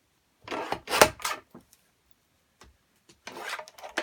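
A thin sliver of card is removed from a Halloween treat box, making short, close rasping rubs in a quick cluster, then silence, then a second burst of scraping.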